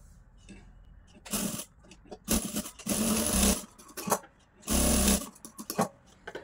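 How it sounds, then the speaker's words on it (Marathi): Sewing machine stitching tucks into a blouse, running in several short bursts of steady whirring separated by pauses, close and fairly loud with no talk. "तर आता आपण टक्स मारूया ब्लाउजला।"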